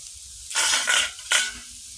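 Food sizzling in a hot pan in two bursts as it is stirred, loud and close, with quieter pauses between.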